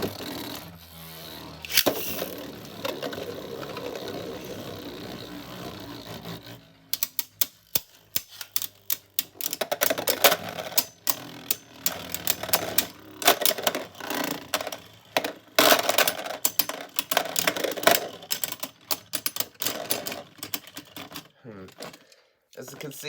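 Two Beyblades, a Perfect Phoenix and a Revive Phoenix on a Polish Friction S driver, battle in a stadium. After a launch, a dense run of loud, rapid clattering, scraping collisions fills the clip, with brief pauses between bursts.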